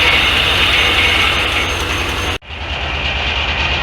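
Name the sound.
antique Corley sawmill carriage moving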